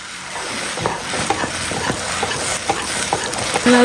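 A thick sweet mixture being stirred in a pan with a spoonful of ghee: repeated soft scraping strokes in a loose rhythm over a faint, steady sizzle, close up.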